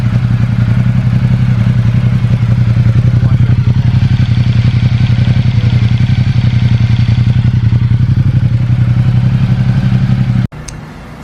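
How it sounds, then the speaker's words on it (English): A Ducati XDiavel S motorcycle engine idles steadily with a quiet exhaust, a constant low throbbing drone with faint mechanical clatter, close and continuous before cutting off abruptly near the end. "The beast is alive. It's such a quiet exhaust."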